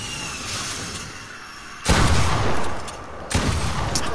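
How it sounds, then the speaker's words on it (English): Gold pump shotgun blasts in the video game Fortnite, two loud booming shots about a second and a half apart over continuous game background noise. "I literally shot him in the head with the gold pump and it didn't do no damage"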